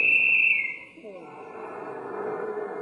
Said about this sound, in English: And then the final whistle blew.